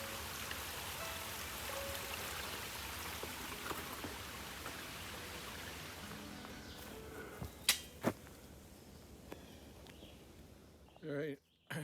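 A stream at a water source on the Appalachian Trail gives a steady, soft rushing flow that fades toward the end, with a few sharp knocks and brief rustling nearby.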